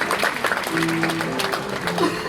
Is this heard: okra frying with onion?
no